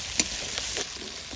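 Spice paste with chopped tomato frying in a pan, a steady close sizzle with a few soft stirring scrapes, no voices.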